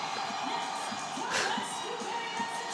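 Arena crowd at a WWE Elimination Chamber event, a dense sustained roar of many voices with a rhythmic chanting quality and a brief louder swell midway, steady and distant-sounding throughout.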